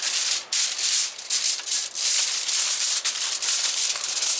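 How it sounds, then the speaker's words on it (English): Large sheet of aluminum foil pressed and smoothed into a baking pan for oven ribs, a continuous close crinkling and rustling with brief dips, loud and with no voices. "I'm going to put a large piece of aluminum foil on the bottom of this pan"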